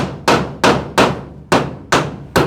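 Hammer blows striking wood at close range, seven sharp impacts in a steady rhythm with brief decays and no voices, after a drill has started the hole.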